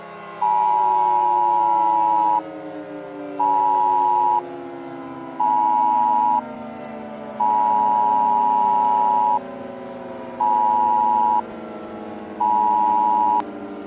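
A loud electronic Emergency Alert System tone sounds in a series of steady bursts, some long and some short, separated by brief pauses.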